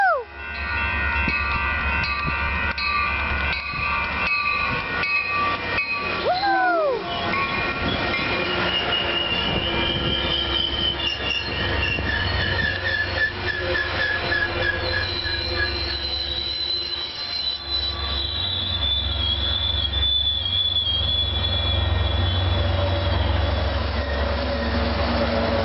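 A long train with locomotive rolls past at Burlingame, close and loud, with steady wheel rumble, clickety-clack over rail joints and high metallic wheel squeals throughout.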